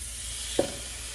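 French toast soaked in egg is laid into a hot skillet, giving a steady broadband sizzle with one short, louder hiss as it meets the pan. No one speaks.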